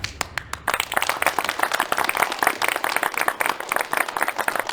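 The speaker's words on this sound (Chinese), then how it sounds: "鼓掌！" A crowd of villagers at a village gathering breaks into dense, sustained clapping that runs loud and unbroken throughout, welcoming someone who has returned home. Only a few scattered claps sound at the very start before the full applause takes over.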